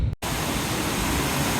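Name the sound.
Katiki waterfalls rushing water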